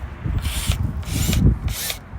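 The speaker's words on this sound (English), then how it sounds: "have to hand drill it maybe" A power drill making new holes during an RV slide-out repair, three short bursts of spinning bit whine, close and fairly loud, separated by brief pauses with low rumbling handling noise.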